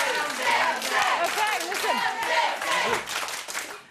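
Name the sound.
clapping by wife and friends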